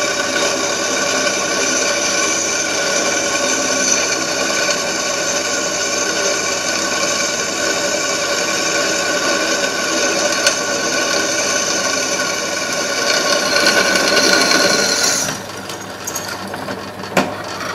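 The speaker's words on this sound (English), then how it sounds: "We're drilling a 7mm hole through it" A power drill boring a 7mm hole through an old piece being restored at an off-grid finca, a steady loud whine holding for about fifteen seconds before it cuts off and trails into quieter background noise.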